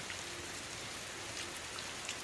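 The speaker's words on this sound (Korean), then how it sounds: "또 비가 내리기 시작합니다." Rain falling steadily outdoors in a garden, a dense, even hiss of drops on surfaces, soft and continuous with no talking.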